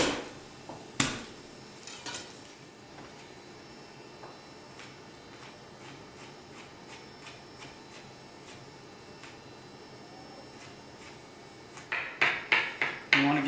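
Garlic cloves being minced with a knife on a cutting board, faint scattered taps that build into a quick run of louder, rhythmic chops near the end, with a voice talking in the background.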